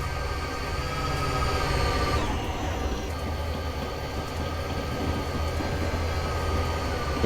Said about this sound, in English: Another train coming there.